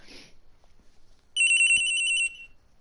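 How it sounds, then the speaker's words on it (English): Loud electronic phone ring in the Ace Attorney video game, a single sustained burst of rapid trilling tones that starts abruptly after a quiet moment, with a brief earlier chirp. "Okay, that's a loud phone."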